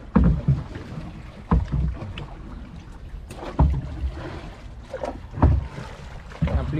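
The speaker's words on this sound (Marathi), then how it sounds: "होडी आहे आता घरी जात आहे" Rhythmic oar strokes splash and knock against a small fishing boat on water, repeating at a steady pace with light wind in the background.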